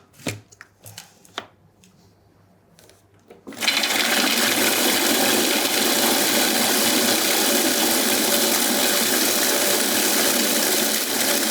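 A stand mixer remixes hazelnut praline with cereals: after a few quiet seconds of small clicks and handling, the motor starts and runs as a loud, steady whirring drone to the end.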